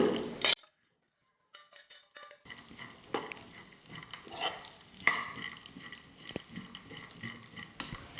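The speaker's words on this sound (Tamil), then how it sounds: "நம்ம எடுத்துருக்கிற ட்ரை ஃப்ரூட்ஸை இதில் போட்டு ஸ்டவ்வை மீடியம் ஃப்ளேமில் வச்சுட்டு 1 நிமிஷம் நல்லா வறுத்தா போதும்." Dry fruits roasting in ghee in a pan on a stove over medium flame: a brief loud clatter, a short quiet gap, then steady close frying sizzle with stirring scrapes and occasional clinks, no voices.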